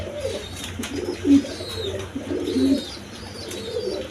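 Breeding pigeons coo repeatedly in low, throaty bursts, close by, with a soft background hum and no talking.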